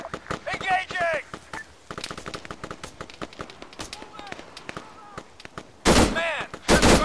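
Gunfire in the Arma 3 video game as soldiers engage enemies: rapid bursts of shots with loud clustered volleys near the end, mixed with shouted voices and radio-style talk throughout.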